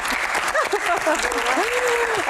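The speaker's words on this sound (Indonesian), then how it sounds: "oh tepuk tangan dong buat Bang Hensat." An audience claps loudly and continuously at a Q&A event with Indonesia's MPR chairman, while a speaker's voice carries over the steady applause.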